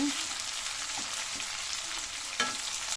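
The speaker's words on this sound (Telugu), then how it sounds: "బాగా ఫ్రై కావాలండి కొంచెం పైన తోలు ఉడుకుంత వరకు ఫ్రై కావాలన్నమాట" Tomatoes frying in hot oil in a pan for a spicy chicken gravy masala, with a steady, loud sizzle and occasional scraping stirs throughout.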